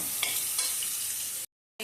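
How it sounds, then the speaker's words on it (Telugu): Mint leaves frying in a pan for Telangana chicken curry, a steady close hiss of sizzling oil with faint scraping from stirring, then a short cut to silence. "పుదీనా వేసి కొంచెం ఫ్రై కానివ్వండి ఇట్లా మంచిగా"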